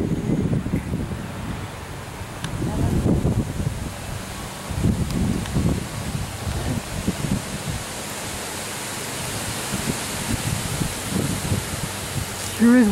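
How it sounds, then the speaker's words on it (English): Wind gusts buffet and roar across the whole clip, rising and falling in waves, with a voice faintly audible underneath. "Sure is windy."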